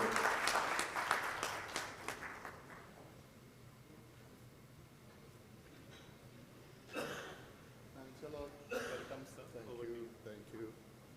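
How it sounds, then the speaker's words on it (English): A conference audience applauds a guest being invited on stage, dense clapping for the first few seconds that fades out, followed by scattered bursts of noise and a voice. "With a huge round of applause, may I please invite on stage His Excellency Abdul Nabi Al Shola"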